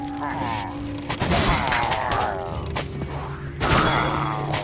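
Charged ranged shots from enchanted mobs in Minecraft Dungeons burst out as a couple of heavy booming blasts amid layered game effects and mechanical clatter, loud and close, with a continuous bed of battle noise throughout.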